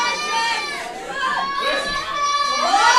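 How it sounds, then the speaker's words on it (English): Spectators at a Scottish Masters weightlifting championship cheer and whoop with rising, high-pitched calls, a lively crowd swelling toward the end. "Listen to the cheers from the crowd."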